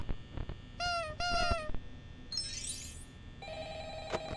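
In the video game Five Nights at Freddy's LEGO Edition, a phone rings in two clear trilling bursts, followed by other electronic game chimes and tones over a low background hum.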